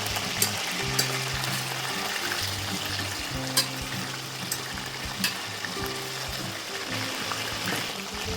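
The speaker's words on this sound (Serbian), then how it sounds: "Meso okrenite, malo da se proprži sa druge strane." Chicken fillet frying in a pan, a loud continuous sizzle with occasional sharp pops and spatters, plus a low rhythmic hum running underneath; no talking.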